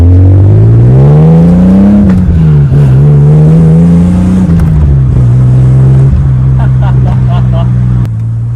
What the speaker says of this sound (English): A 4-litre 6-cylinder has no business sounding this good.